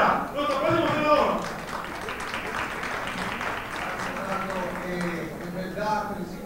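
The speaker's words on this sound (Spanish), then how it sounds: "quiero que aplaudan, por favor, a Fernando Cabrera, nuestro próximo senador" Crowd applause for a Dominican senate candidate at a community event, a dense steady wash of many hands clapping through the whole stretch, with voices and cheers mixed in underneath.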